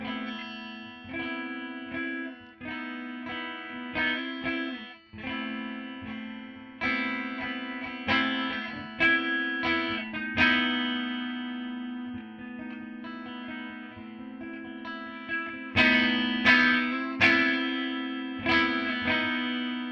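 A Jackson JS32 electric guitar is played through effects with distortion and chorus, giving bright strummed chords and picked notes in uneven phrases with ringing sustain. Loudness is moderate, and no voice is heard.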